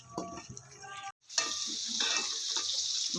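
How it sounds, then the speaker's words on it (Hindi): Peas frying in oil, a soft sizzle with a brief stir at the start, a short gap, then a steady crackling hiss that holds to the end, quiet and close. "मटर फ्राई कर लेंगे।"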